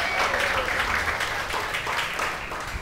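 A church congregation claps together in sustained, dense applause that fills the whole moment, loud and close, with a few voices mixed in.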